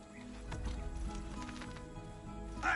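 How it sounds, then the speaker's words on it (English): Horse hooves clip-clop at a steady gallop through a dense, busy game soundscape in Assassin's Creed 2, with a brief whinny-like burst near the end. "Let's grab a horse, and we're gonna fast travel to Florida."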